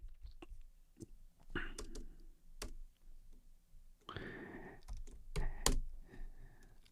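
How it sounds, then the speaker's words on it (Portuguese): A coupon code is typed on a computer keyboard in a quiet room, with scattered soft keystrokes and a few louder clicks in uneven bursts, close to the microphone, with no talking. "Eu vou digitar aqui, pra eu não esquecer"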